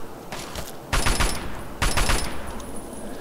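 Assault rifle bursts in Fallout 3, two loud rapid volleys of automatic fire with a quieter shot or two before them, close and dense, with no voice over them.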